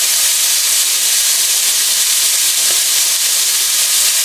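Meat sizzles in a skillet while cooking to medium, a loud, close, continuous hiss of frying that holds steady throughout with no voices.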